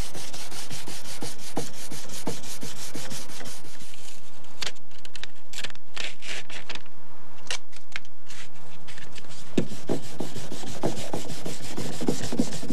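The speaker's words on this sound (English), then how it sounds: "What I'm going to do here is sand this down." Sander working a deep scratch on a Beretta car body panel with roll sandpaper, a steady near rubbing and scraping with short strokes and brief pauses, no talk.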